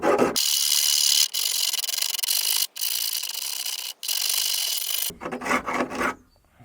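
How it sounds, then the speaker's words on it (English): A very rough metal file scrapes rust and metal off the edge of a Skoda Fabia bonnet in long, harsh, steady strokes with brief breaks between them, close and loud, ending in a few shorter rasps. "I'm going to use this file, this really rough file, and try and take some of the metal off and the rust."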